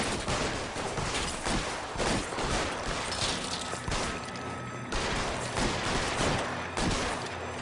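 Sustained rapid gunfire from the L.A. Noire video game on PS3, a dense, loud barrage of overlapping shots and bursts that continues without pause, with no talk over it.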